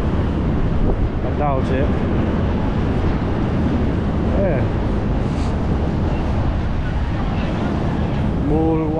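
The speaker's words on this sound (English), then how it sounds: "Can you hear the sound of the wind?" Strong wind buffets the microphone on Blackpool promenade in stormy weather, a loud, constant roaring rumble that runs through the whole clip, with a voice speaking briefly over it.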